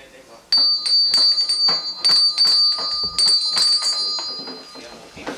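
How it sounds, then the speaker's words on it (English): A small metallic toy fire truck bell rings rapidly and repeatedly in quick bursts, bright and close, with a voice murmuring faintly underneath. "You got a siren or a bell on that thing?"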